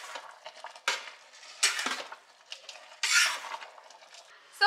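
Vegetables fried beforehand being stirred into rice biryani in a pot, with several distinct bursts of utensil scraping and clinking against the pot between quieter stretches.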